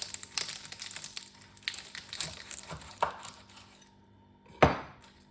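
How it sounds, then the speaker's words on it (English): A knife cuts through a crispy fried spring roll with a run of dry crackling crunches, then pauses before one final sharp crunch, close and fairly quiet with no talking. "so we'll take one and we will just slice it"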